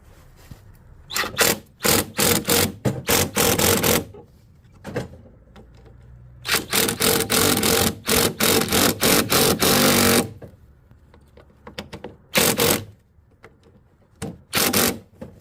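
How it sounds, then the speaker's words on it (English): An impact driver runs a bolt on an MTD snowblower in loud, close bursts of rapid hammering, several short and long runs with brief pauses between them. No voice. "now, just run it with the impact"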